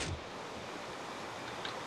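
Water washing and rushing in the Minecraft video game, a steady broadband surf-like wash heard alone for about two seconds, with no talk over it.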